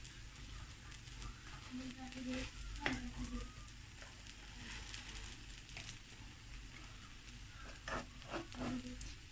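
A vegetable pancake made with baking powder cooks in a pan over a lowered flame, giving a soft, steady sizzle with faint stirring clicks while a voice talks over it.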